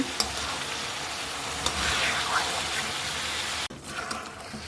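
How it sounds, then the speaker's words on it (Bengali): Fish heads for muri ghonto sauté in a hot pan, a constant close sizzle and crackle with brief scraping stirs, ending in a sharp clatter before the frying carries on alone. "আর একটু কষিয়ে নিচ্ছি মাছটা"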